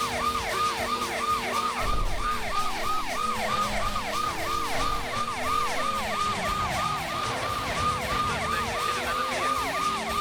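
A police car siren in the video game Driver 2 (REDriver 2, PC) wails loud and continuous, its fast rising and falling yelp repeating over a low engine rumble, with no talk.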